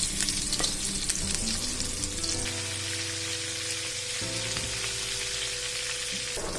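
Onions frying in a pan with a dense, steady crackling sizzle and occasional stirring scrapes, constant and close throughout.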